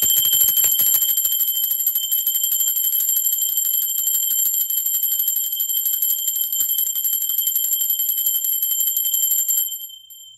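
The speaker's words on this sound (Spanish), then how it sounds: "Va campana" A bright bell rings continuously with a sustained, shimmering metallic tone, loud and close, holding steady for about ten seconds before fading out.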